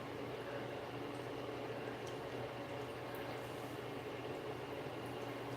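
Cold water poured from a cup over wavy, loosely curly hair in a shower, a steady broadband splashing and rushing wash that runs unbroken and fairly close throughout.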